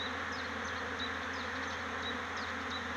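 Many honeybees feeding on blooming cherry plum buzz continuously in a dense, steady hum, with individual bees' pitches rising and falling close by.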